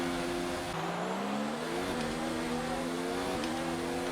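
A Formula 1 race car engine in the F1 2019 game at the Canadian Grand Prix screams steadily at high revs, its pitch climbing through gears with brief shift dips, loud and continuous.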